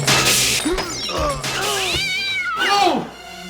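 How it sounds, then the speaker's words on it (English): Distressed cat meows played from a soundboard, a run of several loud, wavering, drawn-out yowls in quick succession, close and clear. "not my distressed cat soundboard"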